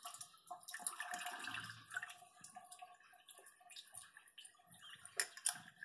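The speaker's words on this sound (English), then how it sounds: "tip away as much of that water" Water is tipped out of a container of yarn that has soaked for a day, as part of a home dyeing process. Faint splashing and dripping continue throughout, with no voices.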